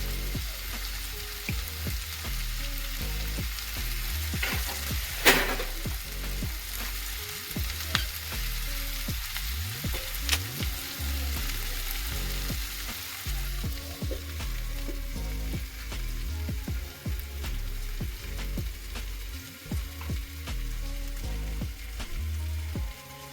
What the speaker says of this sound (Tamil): இனி ஒரு ரெண்டு நிமிஷம் இப்படியே மூடி அவிய விட்டுட்டு இறக்கி